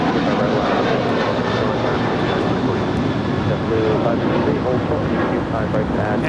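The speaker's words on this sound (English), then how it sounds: "is Alaska Airlines Flight 6. It's a 737-800 off to Washington National." An Alaska Airlines Boeing 737-800 jet takes off from runway 25 right at LAX with a loud, steady, broadband engine roar that fills the whole stretch without letting up.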